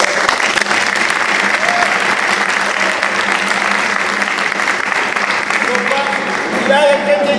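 Loud, sustained applause from a church congregation at a youth closing Mass, close and dense throughout, with voices faintly audible through it and more clearly near the end.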